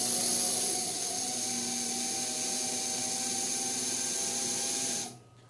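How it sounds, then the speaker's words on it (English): Slow-speed dental handpiece fitted with an acrylic burr trimming excess resin from a temporary crown's gingival edges: a steady, close whine with tonal hum that runs unbroken for about five seconds, then stops. "An acrylic burr on the slow-speed handpiece can be used to trim excess resin from the gingival edges."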